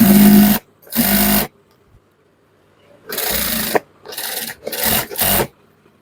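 A sewing machine stitches a narrow fitting seam on trousers in several quick buzzing runs, each lasting about half a second to a second, separated by short pauses and a longer silent gap.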